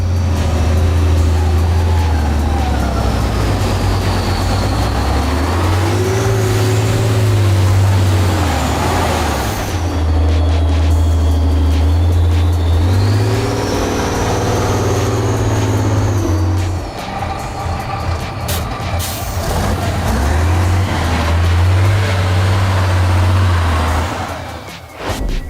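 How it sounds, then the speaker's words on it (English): Ural off-road truck grinding through rough terrain, its deep diesel engine droning loud and near with repeated rises and falls in revs, air-brake hiss and mechanical clatter over about twenty-five seconds. "Where other vehicles would sink, the Ural just keeps on rolling."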